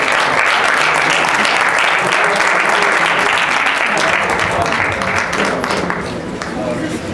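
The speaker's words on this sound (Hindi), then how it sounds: "आप सबकी भरपूर तालियों में" Loud, sustained applause from a large audience at a poetry mushaira in Lahore fills the air, easing off slightly toward the end.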